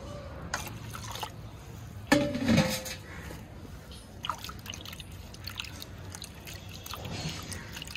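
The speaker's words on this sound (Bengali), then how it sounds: "একটু দ্রুতভাবেই ধুচ্ছি, কারণ বেশি সময় নিলে চিড়েটা নরম হয়ে যাবে।" Flattened rice (chira) being rinsed quickly with water in a bowl, with close sloshing, dripping and trickling water, plus a louder splash and clatter of the bowl partway through.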